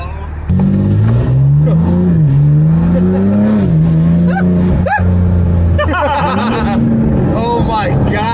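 A loud BMW G82 M4 with catless downpipes burbles at idle, then climbs through a couple of throaty revs, with excited voices chattering nearby throughout.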